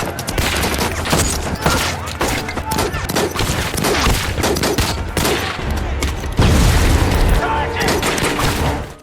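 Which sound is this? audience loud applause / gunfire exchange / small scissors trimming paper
gunfire exchange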